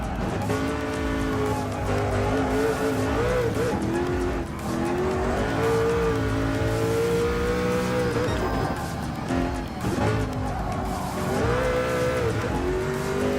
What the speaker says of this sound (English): we launch the throttle again